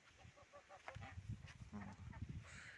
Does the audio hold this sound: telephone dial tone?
no